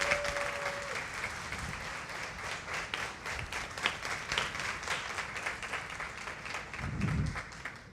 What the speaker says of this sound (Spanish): Ahora sí tumbe la carpa con su aplauso.